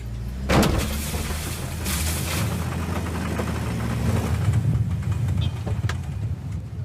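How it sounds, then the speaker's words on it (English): A car's faulty gearbox strains under load while the car tows another car, giving a continuous engine drone with a rough mechanical noise running through it, heard from inside the cabin with no talking. "There's a terrible noise coming from the bottom of my gear lever while it's under load, pulling him."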